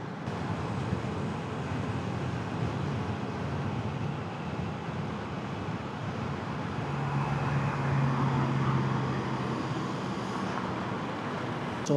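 Steady road traffic on EDSA, a continuous broadband rumble of many vehicles passing at moderate distance with no talk, holding an even level throughout.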